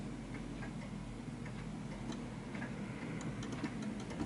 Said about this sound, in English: until I hear the proper tick